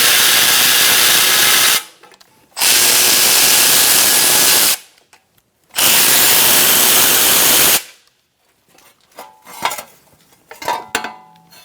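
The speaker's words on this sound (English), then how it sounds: "I'm going to use a 10mm socket to remove these bolts." A power tool with a 10mm socket removing bolts from the backing plate on a Ford Focus steering knuckle: three loud, sustained whirring bursts separated by short pauses, followed by quieter metallic clinks and handling noises.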